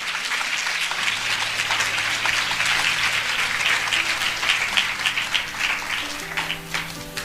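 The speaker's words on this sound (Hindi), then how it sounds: "आइए हम इस वचन के लिए अच्छी ताली बजाएंगे" Audience applause fills a church service, dense and sustained for about seven seconds, with soft musical keyboard tones underneath and no talking over it.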